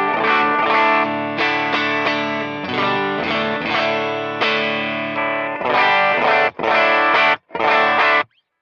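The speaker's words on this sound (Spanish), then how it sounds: "Voy a hacer sonar solamente los amplis, ningún tipo de efecto o nada." Electric guitar played straight through Suhr Bella and Suhr Hombre amplifiers with no effects, loud overdriven chords ringing out in sustained strums, then short choppy stabs with brief silences near the end.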